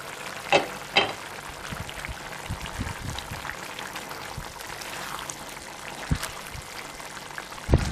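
Chicken masala frying in a pan on medium flame, a steady close sizzle with a few soft knocks and scrapes as it is stirred, and a sharper clank near the start and end.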